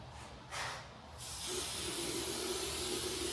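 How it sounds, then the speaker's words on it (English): Short hissing bursts from a spray can of tire lubricant applied to a tire rim, then a longer continuous spray, close and fairly quiet. "Basically, you just spray that rim of your tire, the part right there."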